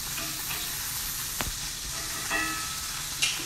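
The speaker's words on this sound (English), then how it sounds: "So the tomatoes are cooking up." Tomatoes fry and sizzle in a pan for an Italian frittata, a steady hiss of cooking with a few louder spatters and splashes, close and alone with no talk.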